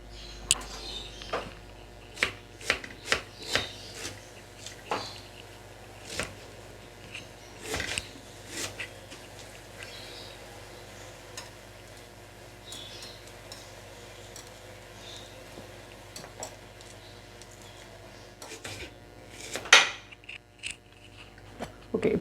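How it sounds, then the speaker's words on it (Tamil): Onions are chopped quickly in a kitchen for a crab gravy, with a knife making irregular, fairly quiet taps and clicks against a board throughout and a slightly louder cluster near the end. "நம்ம ஃபாஸ்ட்டாக ஆனியனை சாப் பண்ணிக்கலாம்"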